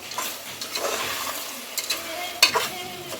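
Chili powder stirred into goat head curry in a pan, with a spoon scraping and swishing through the thick mixture at close range in a few uneven strokes, one sharper scrape near the end over a soft sizzle.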